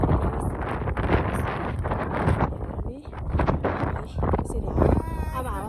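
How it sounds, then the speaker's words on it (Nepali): Outdoor wind at Muktinath in Nepal, a steady broadband rush with gusty swells that runs through the whole stretch, heard close to the microphone under people talking. "यसरी अब हावा चल्नु थाल्यो है"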